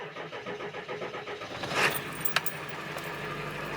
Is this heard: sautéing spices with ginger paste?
no